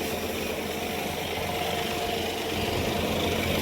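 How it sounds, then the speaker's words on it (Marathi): A John Deere 5210 Gear Pro tractor engine runs steadily during soybean harvesting in a farm field, a constant, fairly loud mechanical drone with no pauses. "John Deere 52 gear pro tractor आहे आपल्याकडे."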